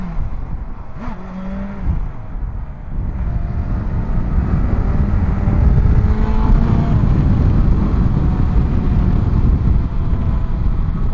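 A BMW S1000XR motorcycle engine drones steadily while riding, its pitch shifting as it accelerates and eases off, close and loud under rushing wind noise.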